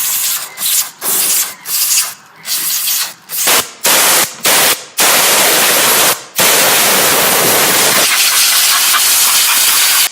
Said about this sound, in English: While the air compressor was on, I went and blew the whole case out as well